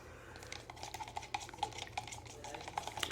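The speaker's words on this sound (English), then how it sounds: "And then you're going to mix it really, really good." A small cup of textured paint mixture being stirred thoroughly, producing faint, soft scraping and light clinking taps in a quick irregular rhythm against a quiet background hum.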